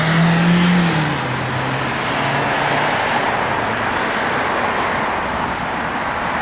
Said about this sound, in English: this car's got a mean sound to it